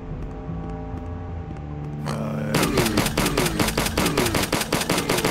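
Dual pistols in HROT fire a rapid, steady stream of sharp shots, loud and close, starting after a quieter stretch of droning game music and keeping up for several seconds.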